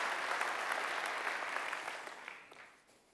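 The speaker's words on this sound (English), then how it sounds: "So round of applause for our drum guys," Audience applause for the drummers at the opening of the J-Fall 2018 conference, a steady wash of many hands clapping that fades out toward the end, with no talk over it.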